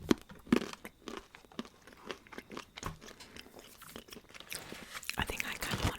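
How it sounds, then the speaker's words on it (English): Crunchy wasabi peas are bitten and chewed close up in a quiet setting, giving a run of sharp crunches and grinding chews with faint mouth sounds between. "wasabi peas adds a nice crunch to it"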